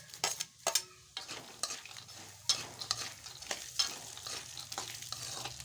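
Garlic and curry leaves crackle and sizzle in hot oil for a tempering, with sharp spatters and stirring clinks over a steady frying hiss, close and alone.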